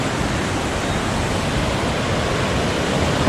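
Babbling stream water flows past in a natural pool area near Lonavla, below the Sahyadri hills, making a steady, close, broadband rushing wash that stays unbroken and fairly loud with no voices.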